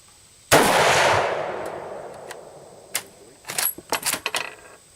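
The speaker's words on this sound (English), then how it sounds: "Take my magazine out." Metal clatter and sharp clicks from a German Brno rifle as its magazine is pulled out: a loud opening impact that rings down, then a quiet stretch, then a cluster of quick mechanical clicks and rattles, close and with no talking.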